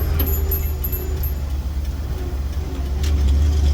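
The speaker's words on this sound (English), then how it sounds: "And driving with the window open." A car rolls along a road with a window open, a steady low engine and wind rumble with tire noise holding at a constant, fairly loud level throughout.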